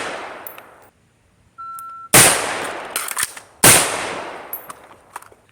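Two loud, sharp pistol shots about a second and a half apart, each with a bright crack and a ringing decay, fired during a timed one-reload drill on an Ambi PDQ-equipped handgun, with a short beep just before them.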